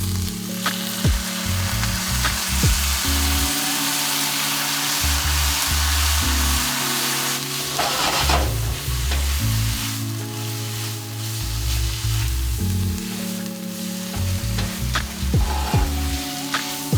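Vegetables and noodles sizzling loudly in a pan at a campsite as sauce is added, a steady close frying hiss with stirring scrapes and occasional taps throughout, no talking.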